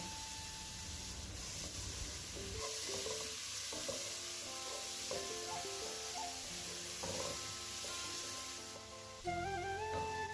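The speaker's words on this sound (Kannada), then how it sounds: "ಈರುಳ್ಳಿಯನ್ನು ಸೇರಿಸ್ಕೊಂಡು ಚೆನ್ನಾಗಿ ಫ್ರೈ ಮಾಡಬೇಕು" Onions fry in a pan and are stirred with a constant hissing sizzle and intermittent scraping, while faint tonal sounds hover in the background.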